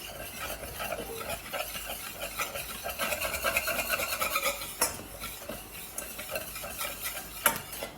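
Roux cooking in a pan while a utensil stirs and scrapes through the paste, making a soft rasping, irregular sound over a faint sizzle, with a few sharper clinks along the way.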